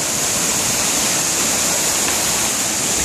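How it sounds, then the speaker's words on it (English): An indoor waterfall runs in a store display built with trees, deer and a river inside a pyramid building. It makes a steady, loud, broadband rush of falling water that continues without any break. "And the river, the waterfall."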